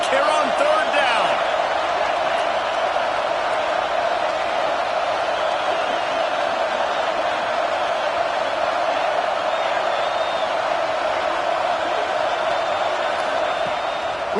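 A stadium crowd at an Auburn football game roars steadily during a third-down play, a loud and unbroken wall of noise from the stands, with a commentator talking over it.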